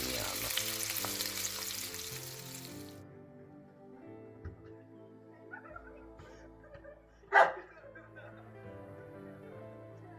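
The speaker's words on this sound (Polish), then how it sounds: "No i tak się smażą hariuski." Grayling fish sizzles and hisses loudly in a hot pan at first, then the frying settles into a quieter crackle, broken by one sharp clatter near the end.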